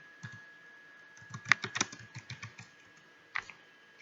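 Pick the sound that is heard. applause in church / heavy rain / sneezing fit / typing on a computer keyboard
typing on a computer keyboard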